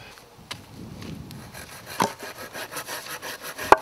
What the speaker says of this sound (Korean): 간단해 보이는 톱질도 체력이 필수.